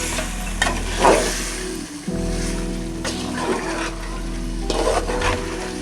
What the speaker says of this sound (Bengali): আলুগুলো দিয়ে তারপর এভাবে কষাবেন।